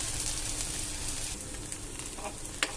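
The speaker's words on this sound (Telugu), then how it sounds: "ఇది కొంచెం గోల్డెన్ బ్రౌన్ కలర్ వచ్చే వరకు ఫ్రై చేసుకోవాలి." Ginger frying in hot oil until golden brown for a chutney, a steady close sizzle throughout with a few small pops and crackles near the end.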